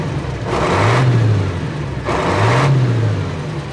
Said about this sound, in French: Camion en échappement d'origine.